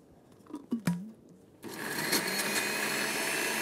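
A blender mixes pea mousse for a cooking class; after about a second and a half of quiet with a few clunks and knocks, the motor roars up and runs steadily and loudly to the end.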